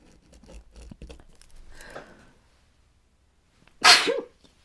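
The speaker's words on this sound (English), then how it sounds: "Sneezing." One sharp, loud sneeze bursts out near the end after quiet soft movement sounds, close to the listener, with no talking.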